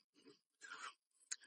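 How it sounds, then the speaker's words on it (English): A thin, sugary Pennsylvania Dutch sand tart cookie is crunched in three quick, close bites with brief pauses between them, quiet and crisp with no talking. "Super crunchy with like a lot of sugar on them."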